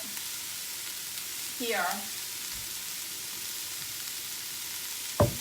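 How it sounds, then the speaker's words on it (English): Onions and cabbage sauté in a pan with a soft, steady background sizzle, while a voice talks briefly over it and a short clatter sounds near the end. "onions and cabbage mixed together, and we're sauteing"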